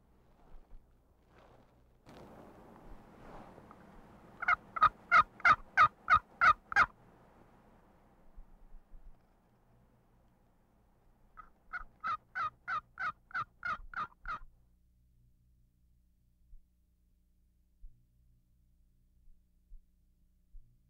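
Wild turkeys gobble during a turkey hunt in two fast bursts of rapid, rhythmic gobbling a few seconds apart, moderately distant in an otherwise quiet outdoor setting.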